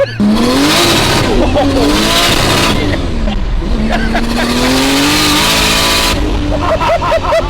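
A Nissan R34 Skyline engine revs hard at full throttle, its loud, rising roar climbing through the gears in repeated pulls with brief drops between shifts, while voices are heard faintly beneath.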